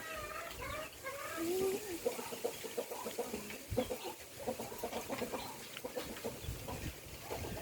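Farmyard chickens cluck and call in a rural Thai setting, a steady mix of hen sounds with a rooster-like cry near the start, heard alongside background voices and general outdoor noise.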